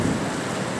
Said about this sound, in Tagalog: Ulan lang, ang lakas.